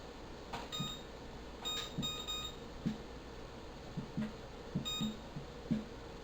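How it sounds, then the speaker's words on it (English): A kitchen timer's faint electronic beeps sound several times at irregular intervals over a low background hum, quiet and somewhat distant. "Now we're going to set our timer for"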